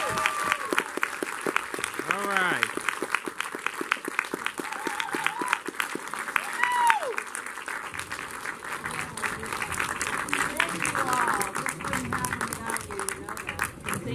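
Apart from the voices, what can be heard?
audience applause after Q&A with an actress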